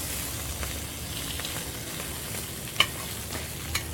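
Turnip fries and greens tossed in sizzling ghee, a steady crackling fry with soft stirring scrapes and a couple of sharp pan clinks, close and alone without talk.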